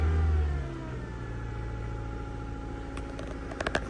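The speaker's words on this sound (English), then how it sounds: "it's about to sound like a beast watch. Let me hit the gas." A car engine runs with a loud, steady harmonic drone that is strongest in the first half-second, then holds evenly, with a few sharp clicks near the end.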